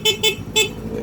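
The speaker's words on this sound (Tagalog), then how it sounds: "Gamit tayo ng busina mga bro" Three short, sharp horn beeps from a Rusi Delta 125 motorcycle, two in quick succession then a third after a brief pause, loud and close.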